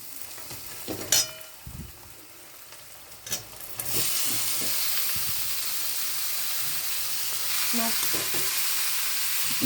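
Spice masala sizzles in hot oil for an ech'or (jackfruit) curry, a few scrapes and knocks of stirring at first, then a steady loud frying hiss once more ingredients hit the pan, close and continuous.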